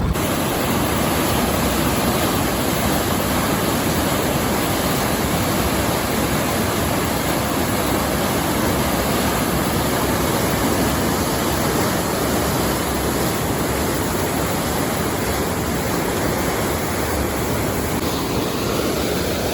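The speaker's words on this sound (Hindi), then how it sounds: "ये पानी जाई रहा है दरिया झेलम ने अंदर शामिल होने वास्ते" River water rushes steadily beneath the Rathoa Haryam Bridge in Mirpur, Azad Kashmir, on its way to join the Jhelum River, a loud, constant broadband roar with no voices.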